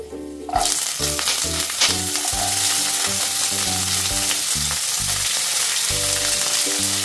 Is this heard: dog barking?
no